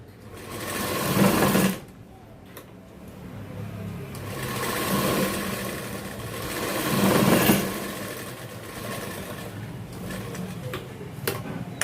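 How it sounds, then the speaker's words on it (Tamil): An electric sewing machine double-stitches the collar of a 42-inch jacket in a tailoring shop, whirring in long continuous runs that swell and fade, with short pauses and clicks between bursts. "இப்போ கழுத்தில் வந்து டபுள் தையல் போகிறோம். டபுள் தையல் போடப்படுகிறது."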